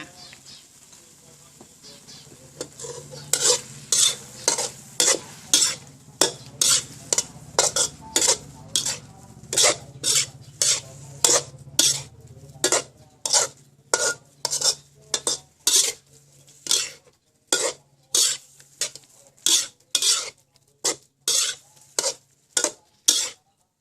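Mixed wild mushrooms stir-fried in a pan with sugar and seasoning sauce: a long run of quick, rhythmic spatula scrapes against the metal, dozens of close, sharp strokes over a faint low sizzle.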